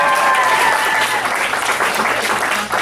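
Graduation ceremony audience bursts into loud, dense clapping for the graduates, sustained applause with a faint voice briefly audible underneath near the start.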